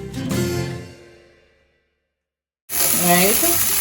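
Pimento seeds and garlic fry in a pan for a Jamaican salt mackerel rundown with coconut milk, a loud close sizzle that fades out into a short silence, then bursts back in strongly, with faint stirring.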